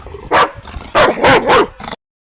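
An excited dog playing in snow gives several loud, close barks and yips in quick bursts, then falls abruptly silent.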